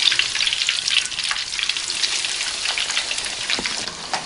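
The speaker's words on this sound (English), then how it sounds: "When oil hot, add katlamma into the kadai." Katlamma frying in hot oil in a kadai makes a loud, bright, crackling sizzle, dense and continuous with sharp pops, heard up close and without talk.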